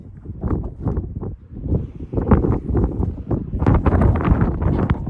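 Gusty wind buffets the microphone in uneven rumbling bursts that rise and fall, loud and close, with no talking.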